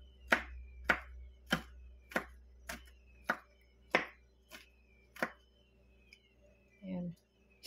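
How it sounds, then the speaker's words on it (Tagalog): Knife chopping garlic finely on a cutting board for pork adobo, about a dozen crisp, evenly spaced chops close by, ending with a softer scrape, while a voice speaks quietly. "slice natin yung garlic guys ng pino"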